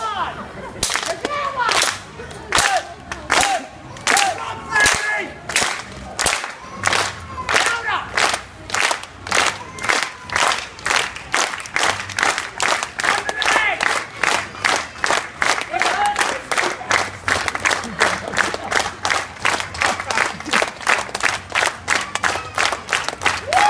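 A street performer's audience at Fisherman's Wharf claps in a fast, steady rhythm while shouting and cheering together, a loud crowd keeping time for over twenty seconds.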